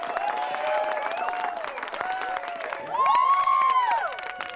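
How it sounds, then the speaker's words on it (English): A classroom of students breaks into applause, a dense wash of clapping mixed with crowd noise and a few shouts that swells louder toward the end, with bright tonal sounds over it. "And everybody clapped"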